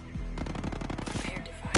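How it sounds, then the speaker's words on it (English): Enemy automatic gunfire in Ghost Recon Breakpoint, a fast, loud rattling burst of closely spaced shots that keeps going, then a sharper crack at the end, with no voices. "Yeah, they're firing at a Terminator."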